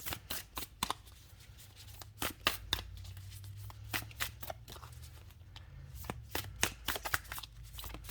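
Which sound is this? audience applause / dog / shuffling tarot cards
shuffling tarot cards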